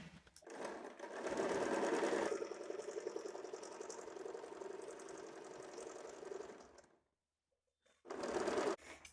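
A sewing machine stitches a double-layer high-neck blouse in a steady, fairly close whir for about seven seconds, falls silent briefly, then starts again for a short final burst.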